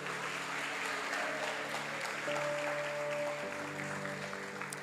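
A church congregation applauding steadily, a dense wash of clapping that holds at an even level throughout, with faint sustained tones underneath.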